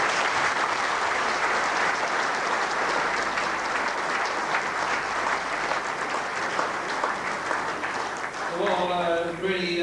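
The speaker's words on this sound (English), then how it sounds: "Big round of applause" A big crowd applauds at a rugby league testimonial event, sustained loud clapping filling the whole stretch, with a voice and music starting up faintly near the end.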